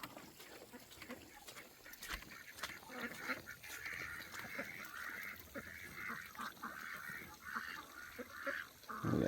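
Several ducks quack and honk repeatedly outdoors at moderate distance, an overlapping chorus with occasional splashing-like noise.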